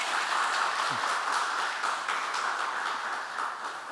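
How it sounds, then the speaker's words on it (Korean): An audience at a Yonsei breakfast prayer meeting gives a guest a sustained round of warm applause, steady and dense from start to finish. "좀 큰 박수로 여러분 환영해 주시면 감사하겠습니다."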